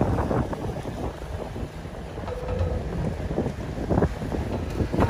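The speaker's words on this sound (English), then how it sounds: "Wind speeds up to about 18 miles an hour now, and it's getting a little rough out here." Gusty wind of about 18 mph sweeps across choppy water at a dock in Gulf Breeze, Florida, a steady rushing roar with irregular splashes and surges and no talking.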